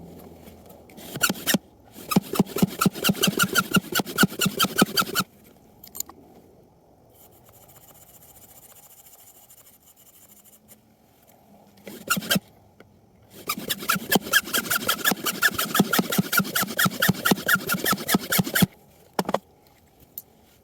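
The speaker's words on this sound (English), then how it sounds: "Gonna brush this hole out real good, blow it a few times" A brush scrubs out a drilled hole in rock for replacing a climbing wedge bolt, close rapid rhythmic rasping strokes in two long bursts separated by a quieter pause, with no talk.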